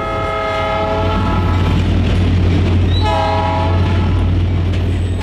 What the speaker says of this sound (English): The Hoosier State Train chugs down the tracks